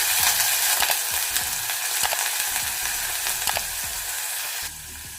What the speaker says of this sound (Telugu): ఇందులో ఒక పెద్ద ఉల్లిపాయ ఇలా పొడవుగా సన్నగా కట్ చేసుకొని వేసుకోవాలి.